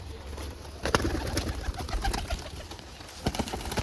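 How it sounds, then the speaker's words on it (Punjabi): Racing pigeons coo near the microphone while being fed wheat and mustard seed, repeated low burbling calls over faint background noise. "ਆ ਤੁਹਾਡੇ ਸਾਹਮਣੇ ਬੈਠੇ ਨੇ ਕਬੂਤਰ"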